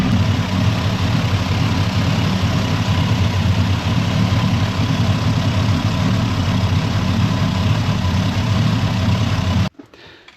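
A 1987-95 Chevy engine with throttle body injection idles steadily and loudly at close range, a constant low rumble that holds for nearly ten seconds before cutting off abruptly near the end.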